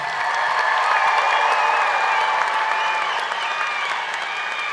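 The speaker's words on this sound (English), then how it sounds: "Let's give these students a round of applause." A large graduation ceremony crowd applauds high school students, with dense, steady clapping and faint cheering that fills the hall throughout at a fairly even level.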